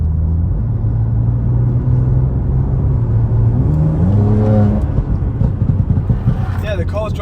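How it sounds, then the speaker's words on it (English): A rebuilt McLaren 720S drives along with a steady loud engine rumble and whirring road noise, the pitch rising and falling slightly as it moves, while people talk over it inside the car. "yeah, the car's driving completely fine."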